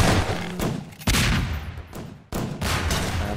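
Rapid SMG gunfire and grenade blasts in a Half-Life 2 Deathmatch match, loud and close, with dense bursts broken by sharp explosive hits and brief gaps.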